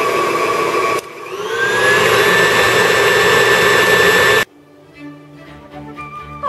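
Electric mixer beating springerle cookie dough, a loud steady whirring drone that rises in pitch after a brief start and runs for several seconds, then cuts off abruptly, leaving faint kitchen clatter.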